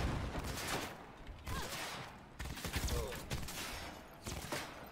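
Semi-automatic gunfire in the video game Cyberpunk 2077, several separate shots spaced about a second apart, moderately loud against game noise, with a person talking in between.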